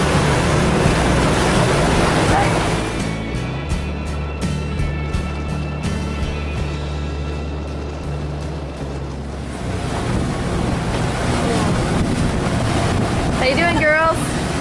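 A sailboat motoring along off Martinique, its engine giving a steady low drone beneath wind buffeting and the wash of water against the hull, with a brief voice near the end.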